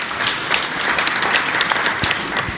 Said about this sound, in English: I would like the delegation to give you some recognition by clapping their hands